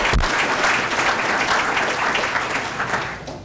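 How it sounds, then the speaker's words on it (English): Crowd at an athletic complex dedication ceremony gives sustained applause, a loud, dense wash of clapping from many hands that thins slightly at the end. "Let's give them an applause."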